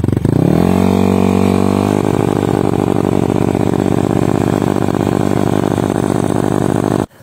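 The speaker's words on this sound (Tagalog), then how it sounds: "Dahil nga pumupugak-pugak yung motor natin." A motorcycle engine with a sputtering fault starts up close and loud, then holds a steady, slightly uneven running rumble for several seconds before cutting off abruptly, with no voices.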